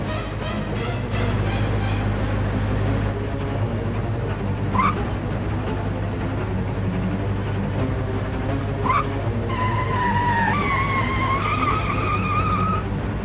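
A car skidding with failing brakes in a Tamil TV drama scene, a steady engine and road rumble running throughout with tire squeals rising near the end, all loud and close with no talk over it.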